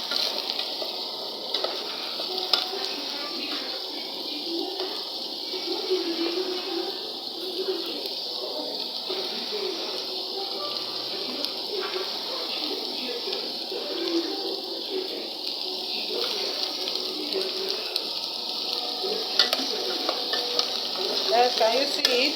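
Carrots are stirred into rice frying in a pan, a steady sizzle running throughout with repeated scraping strokes of the spoon, close and moderately loud, no talk.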